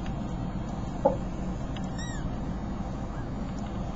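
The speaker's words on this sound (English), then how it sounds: "Seven beautiful little kittens." A litter of seven 15-day-old kittens gives a few faint, thin high meows and squeaks over a steady low background hum.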